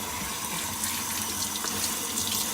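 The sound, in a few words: rinsing potatoes under running tap water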